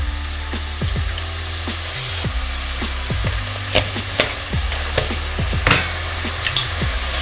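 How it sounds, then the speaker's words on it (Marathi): Tomatoes with salt sauté in a pan under a steady close sizzle, broken by regular scraping strokes of a spatula against the pan, loud and without speech. "आता आपण पाच ते दहा मिनटं टोमॅटो परतून घेऊया"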